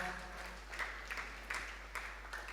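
Children at a Tamil literary gathering give a round of scattered, uneven claps in several short bursts over faint background hum, fairly quiet and somewhat distant.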